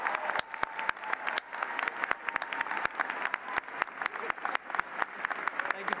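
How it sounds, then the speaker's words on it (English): Audience clapping at a university commencement ceremony, a steady, moderately distant round of applause from a crowd with sharp individual claps throughout, continuing without a break for several seconds. "Round of applause, ladies and gentlemen"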